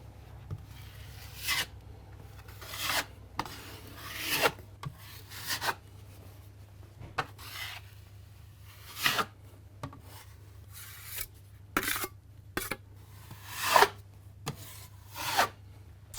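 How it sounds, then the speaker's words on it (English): A broad knife spreads a top coat of compound over a wall patch, giving intermittent soft scraping swipes against a low steady hum. "I've got my nice broad knife here, and we'll just apply it on."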